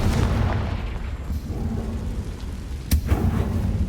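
A Confringo blasting spell is cast in Hogwarts Legacy, heard as a sharp crack of impact within a rumbling, stormy wash of game ambience.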